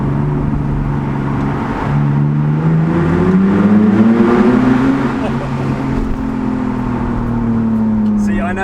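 BMW Z4 with its exhaust backbox deleted, cruising and accelerating on the road: a deep, steady droning exhaust note that swells and rises as the car pulls, heard from inside the cabin and continuing throughout.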